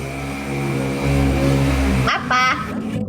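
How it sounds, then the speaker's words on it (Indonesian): A motorbike engine drones on the main road just outside a roadside house, its pitch sliding as it passes close by, then dropping off abruptly, loud and brief. "Itu suara motor siapa?"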